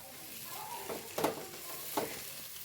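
Garam masala mixture frying in a pan for chicken roast while being stirred, a soft steady sizzle broken by a few sharp scraping stir strokes, close and alone with no talk.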